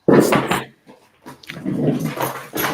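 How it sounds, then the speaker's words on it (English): Dogs close by giving a few loud barks and whining yelps in quick succession, with short gaps between bursts. "I'm going to go back and sort these dogs out."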